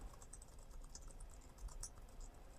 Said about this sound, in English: very quiet sound to the keys